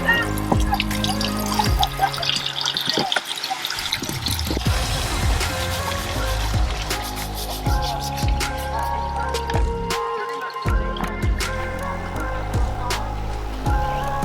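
Hot water runs from a Joolca HOTTAP V2 Nomad portable gas water heater, a close, continuous splashing pour with shifting trickles and drips throughout, no voices.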